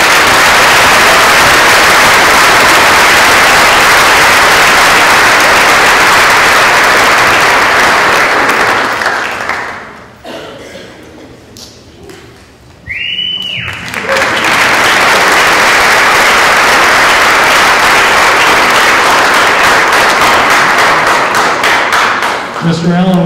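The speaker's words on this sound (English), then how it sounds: "please give Mr. Stuart Allen and Ms. Sarah Allen a big round of applause" Loud, sustained round of applause from an audience at a high school awards evening, filling about ten seconds, dropping to a lull with brief voices, then swelling again into a second long burst of clapping.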